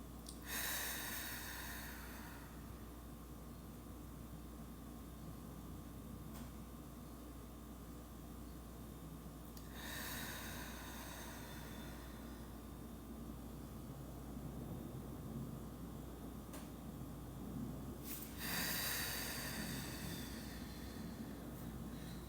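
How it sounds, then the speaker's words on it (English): Three slow, deep cleansing breaths spaced several seconds apart, each a soft rushing inhale and exhale rising out of a steady low background hum, quiet and close, with no talking. "taking a deep cleansing and grounding breath"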